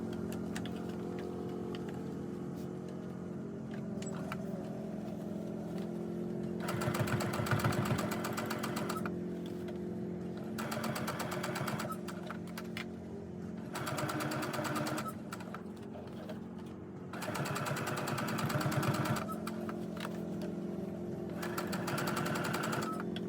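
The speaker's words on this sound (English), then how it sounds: "I'm just going to finish by top stitching around the edge here" A sewing machine topstitching around the edge of a fabric pouch, running in several bursts of rapid mechanical chatter separated by quieter pauses, close up and with no talk.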